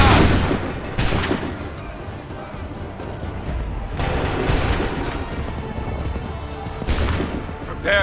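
Booming cannon volleys from Assassin's Creed 3, several heavy blasts spaced a few seconds apart, each followed by rumbling echo, with shouted orders mixed in.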